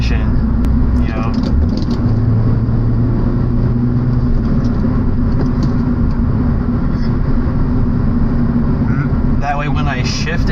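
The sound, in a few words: car engine revving during a rev-match downshift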